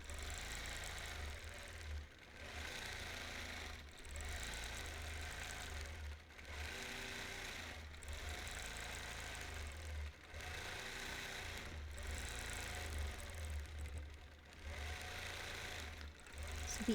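A quilting machine stitches through fabric in a steady mechanical whir, broken into even passes about every two seconds with short pauses between.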